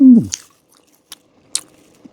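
A bite into chewy rice-cake tteokbokki from a snack shop, followed by a few soft, sticky chewing and smacking sounds spaced apart, close and quiet, with a brief voiced murmur at the start.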